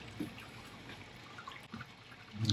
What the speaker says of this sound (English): I like this because it sits on top and drips inside and grabs a little extra